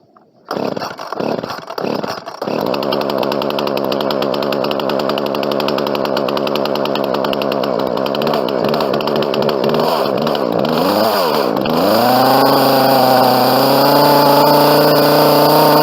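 A Poulan P3314 chainsaw engine starts with a few pulls, then runs steadily close by, idling with a rough buzzing drone before revving higher near the end.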